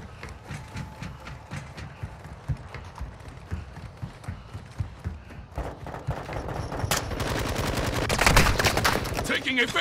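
Gunfire in a shooter video game, with scattered single shots and footsteps at first, then a dense, loud burst of rapid automatic fire building toward the end.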